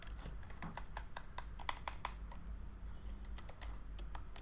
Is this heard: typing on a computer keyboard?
yes